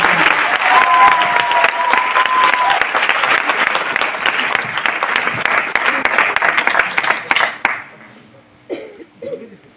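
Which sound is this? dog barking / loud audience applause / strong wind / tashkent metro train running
loud audience applause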